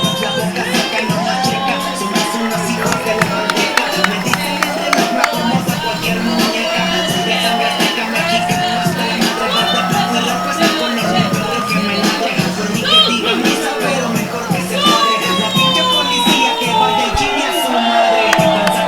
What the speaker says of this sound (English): The crowd is very happy to see 𝗖𝗏𝗏, which they should be.